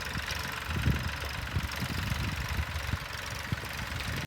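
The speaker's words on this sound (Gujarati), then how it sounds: "હવે આપણે ટ્રેક્ટરને સલેબ મારીએ." Tractor engine idling on a farm after a self-start, a steady, moderately quiet mechanical rumble with faint knocking pulses and no talk.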